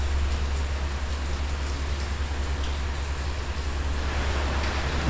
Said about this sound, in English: Can you hear the rain, or does it just sound like more white noise?